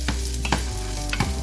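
Bitter melon sautéing over medium-high heat for a Vietnamese stir fry with egg: a steady sizzle with a few quick scraping stirs, close and clear, no talk.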